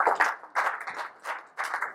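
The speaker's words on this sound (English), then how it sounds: "Shall I give them a big round of applause?" Audience at a business school lecture applauding, heard as bursts of close, dense hand clapping that rise and fade in several waves.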